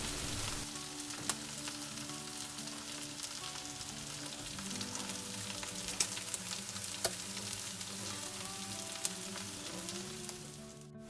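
Tandoori chicken leg quarters sizzle on a tray under an oven grill set to high, a steady close-up hiss of fat and juices dotted with sharp little pops and crackles, with no one talking.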